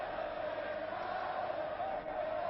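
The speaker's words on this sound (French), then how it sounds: "Et la foule hurle." A wrestling crowd roars continuously at a bout between Tosh Togo and Roger Delaporte, a dense, steady wall of cheering and shouting on an old, muffled, band-limited recording.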